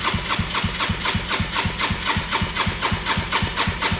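A restored NB Luck engine idles steadily with an even, rapid chugging rhythm, loud and close, with no other sounds over it.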